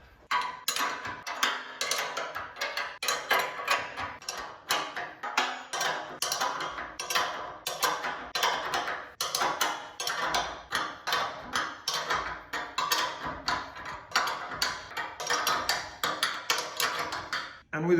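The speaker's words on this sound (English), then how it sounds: "And with a few twists of a spanner, that's done." Spanner working a rear spring bolt on a 1934 Chevy hot rod utility, a long run of rapid metallic ticks and taps in an irregular rhythm, close up and moderately quiet, with no one speaking.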